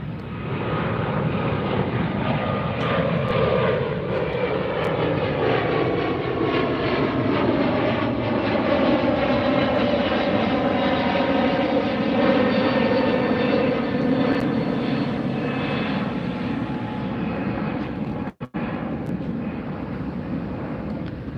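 A jet airliner departing LAX, heard from the beach, roars steadily overhead for about twenty seconds, a broad loud rumble with whining tones sliding downward as it passes, with a brief dropout near the end.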